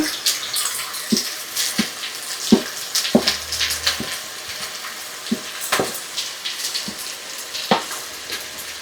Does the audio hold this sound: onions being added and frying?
yes